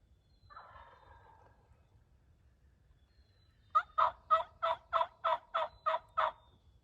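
Wild turkey on a Michigan public-land ridgetop gives a quick burst of clucks, then after a pause a rapid rattling gobble of about eight pulses, distinct against a quiet outdoor background.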